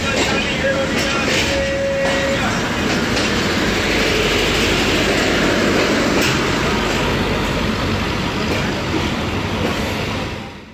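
The 149UP Mehran Express, which runs between Karachi and Mirpur Khas, pulls out of platform 3 at Hyderabad Junction with a loud, continuous rolling roar and rhythmic wheel clatter close by, briefly joined by a thin whistle-like tone early on.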